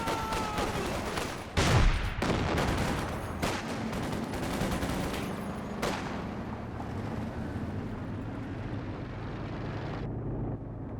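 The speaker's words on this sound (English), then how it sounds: "Start to use that very no scatter creeping barrage." Creeping artillery barrage in Company of Heroes 2 during a 2v2 match: a dense, continuous roar of overlapping blasts and rumbling detonations, loud and sustained throughout, with a sharper burst early on.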